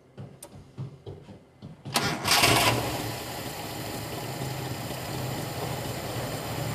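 A Toyota Kijang engine, a Kijang Kapsul or 7K Grand, cranks with a few uneven clicks and knocks, then catches into a loud rev and settles to a steady, rough idle during carburetor adjustment.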